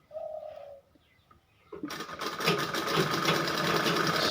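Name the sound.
sewing machine stitching blouse fabric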